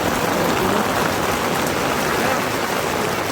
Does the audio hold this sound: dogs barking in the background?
no